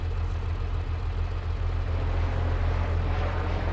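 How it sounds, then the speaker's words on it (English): A steady low mechanical drone with a deep rhythmic throb of a helicopter hovering nearby in Farming Simulator 22, continuous and fairly loud throughout. "Oh, that bloody helicopter."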